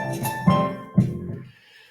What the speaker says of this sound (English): that is the sound of us completing the Sunday New York Times crossword puzzle